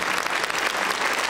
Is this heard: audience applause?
yes